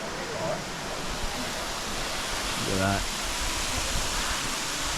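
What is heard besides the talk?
waterfall with mist falling from a hole above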